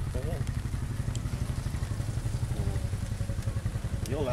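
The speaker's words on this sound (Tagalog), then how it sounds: "So yun, dito na tayo sa ating motor" A motorcycle engine idles steadily at close range, a low rumbling throb that continues throughout, with a few faint clatters on top.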